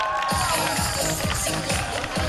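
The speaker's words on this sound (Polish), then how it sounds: "Wielkie brawa!" A school crowd cheers and applauds the winning first-year class at a class competition event, a loud, dense, continuous roar of voices and claps with rhythmic surges throughout.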